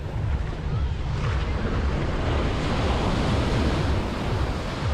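Sea waves washing onto Playa Mamitas beach in Playa del Carmen, a steady, loud, continuous surf roar with wind buffeting the microphone throughout.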